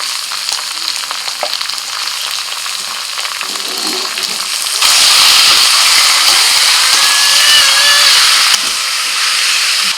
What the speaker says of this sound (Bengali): পেঁয়াজের সাথে চিকেনটাকে মিনিট 2-3 ভেজে নিয়েছি